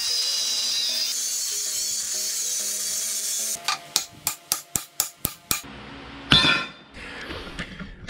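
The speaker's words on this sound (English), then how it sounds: "We're gonna knock this out with a hammer." Sharp metallic hammer blows ring out as a bump stop on a Dana 60 Super Duty axle is knocked out for a Jeep build, about eight evenly spaced strikes followed by a scraping clatter.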